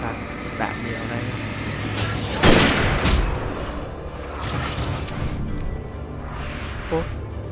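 Bursts of gunfire thud and boom amid a tense backdrop in the dark forest of Alan Wake. A few heavy shots are spread over several seconds, partly under someone talking.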